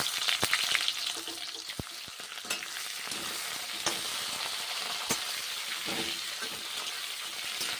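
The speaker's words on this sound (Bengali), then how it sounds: "কাঁচা কলাগুলো আমি এখন ভেজে নিচ্ছি" Raw green bananas fry in oil with five-spice seasoning, a steady close sizzle broken by scraping stirs and a few sharp spatula knocks on the pan, with no talking.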